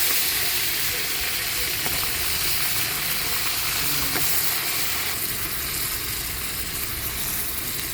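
Goat tripe (boti) fries in a pan during a Sankranti home cooking session, giving a steady, continuous sizzle that holds level throughout with faint background noise and no clear speech.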